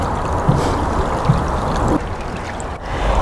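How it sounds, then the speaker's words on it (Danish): Fast-running water of the Ses Mølleå stream flows at a dike, a steady, dense rushing and gurgling wash heard close and alone. "vandet i Ses Mølleå det løber rigtig hurtigt"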